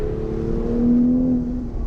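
A 2020 Toyota Supra GR engine on a race track, loud and steady, holding a droning note that rises in pitch toward the middle and then eases back as the car carries speed through a bend and onto the straight.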